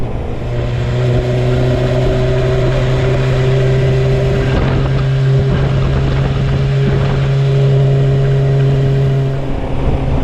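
A motorcycle cruises steadily at about 36 mph on a 60 mph road, its engine a loud, continuous drone with wind rush and no pauses.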